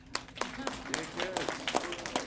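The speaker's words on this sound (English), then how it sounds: "Can the kids help me clap?" Children at a Colorado early childhood plan announcement clap in quick, uneven bursts of sharp smacks, fairly faint, with voices mixed in.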